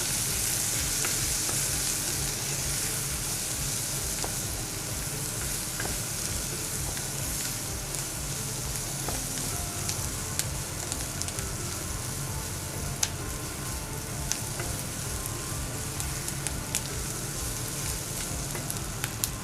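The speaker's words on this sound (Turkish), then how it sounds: "şöyle bir çorba kaşığı kadar sirkemi gezdiriyorum. Ve karıştırıyorum." Mutancana, an Ottoman palace dish, is stirred in a hot pan after a drizzle of vinegar, giving a loud, continuous sizzle with scattered crackles and light scraping throughout, and no one speaks.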